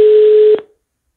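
A telephone tone while calling M.L. Fadiga, one steady loud electronic tone held for about half a second, then cut off into silence.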